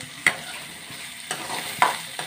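Onions are stirred as they fry in a pan, a continuous close sizzle broken by a few sharp scraping clacks of the spoon against the pan, with no talking.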